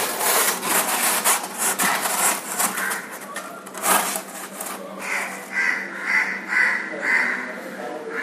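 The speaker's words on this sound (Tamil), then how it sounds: "இந்த சைஸுக்கு வந்து தெர்மாகோல் வந்து நம்ம கட் பண்ணிடுவோம்." A sheet of thermocol (polystyrene foam) is cut to size with a blade for a new fish tank setup, giving a continuous scratchy, squeaky sawing-like rasp up close, with a voice talking partway through.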